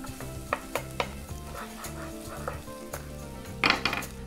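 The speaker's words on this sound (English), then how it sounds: "gently fry the onion for about 5 minutes" Onion gently frying in oil in a pan for lentil soup, a soft steady sizzle with spoon stirring and scraping and light clinks against the pan, close and without talk.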